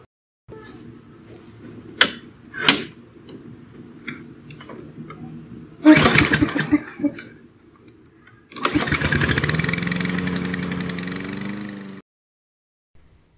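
A Toro Recycler 22-inch lawn mower gets a couple of pull-cord tugs, sputters briefly, then catches and runs with a steady close engine drone for a few seconds before cutting off.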